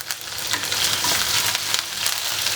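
Ginger and curry leaves sauté in hot oil with a dense, close crackling sizzle and scattered sharp pops over about two and a half seconds, with no voices.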